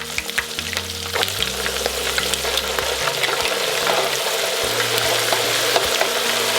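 Surströmming fish deep frying in a deep fryer gives a loud, continuous sizzle and crackle of hot oil, with bubbling pops and spatter close up the whole time.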